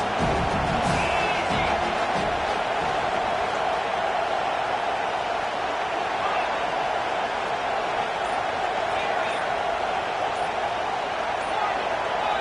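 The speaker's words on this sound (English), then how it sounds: "with this place rocking, the crowd forces a false start" Dense, steady roar of a packed stadium crowd at a Boise State college football game, loud and unbroken throughout, with a commentator's voice under the noise.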